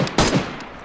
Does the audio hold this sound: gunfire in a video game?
yes